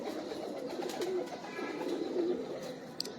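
Pigeons of an old named breed cooing softly in a loft, low murmuring coos repeating through the clip with faint background rustle and no talk.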